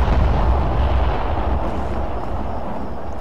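Explosion in the military video game Arma 3, a loud broadband blast rumble that fades slightly into a sustained low roar across the clip, with no voices.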